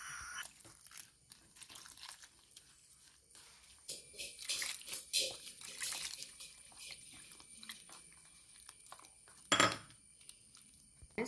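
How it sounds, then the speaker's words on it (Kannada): Rava dosa batter, made with rice flour, salt and curd, is mixed with water in a bowl, giving irregular clinks and scrapes of a utensil with soft wet stirring, close and fairly quiet. "ಬೇಕಾದಷ್ಟು ನೀರು ಹಾಕ್ಕೊಂಡು ಒಂದು ಸಲ ಮಿಕ್ಸ್ ಮಾಡ್ಕೊಂಬ"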